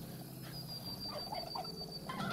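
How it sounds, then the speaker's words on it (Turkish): A wild turkey gobbles in the video game Far Cry 5, a rapid warbling call heard clearly over steady game ambience and a high whine, with no talking. "Hindi niye saldırıyor?"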